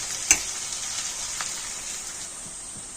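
Ginger garlic paste frying for a prawn and potato curry: a steady, bright sizzle close by, with one sharp tap near the start and faint stirring after it.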